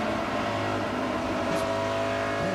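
On-board engine roar from a NASCAR Nationwide Series race car at Darlington, a steady loud drone with sustained throttle throughout, no talk.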